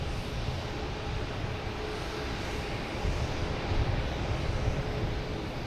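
An ITA Airways Airbus A330-200 from Rome landing at Boston Logan Airport, a loud, steady, broadband jet roar that swells slightly toward the end, heard without voices.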